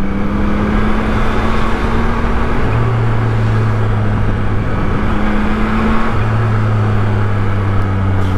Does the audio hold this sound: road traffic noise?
yes